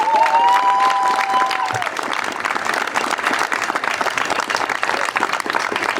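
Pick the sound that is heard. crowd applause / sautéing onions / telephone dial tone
crowd applause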